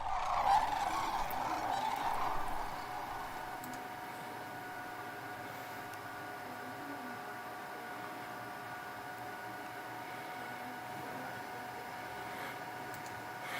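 Sandhill cranes call continuously in Nebraska in a wavering, rattling chorus, loudest at the start and then steady, with no voices.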